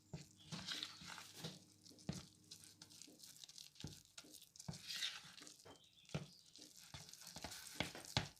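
Dahi bhalla batter being stirred and mixed with water in a bowl, soft wet slaps and squelches at an uneven pace, close and fairly quiet, with light clinks and scraping throughout.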